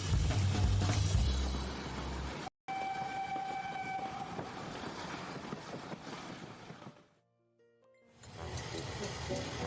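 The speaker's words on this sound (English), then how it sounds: "It simply has to be the most romantic train in Britain" The Royal Train runs on British rails with a heavy, close rumble and a sustained horn tone. The sound drops out briefly, fades almost to silence, then swells back in.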